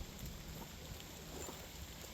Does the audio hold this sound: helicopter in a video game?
no